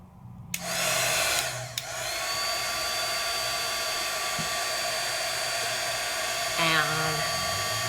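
An electric heat tool on low heat, blowing onto shrink plastic for crafting: a loud, steady high-pitched whine and airy blast switches on abruptly, briefly dips, then runs continuously up close, with a faint voice near the end.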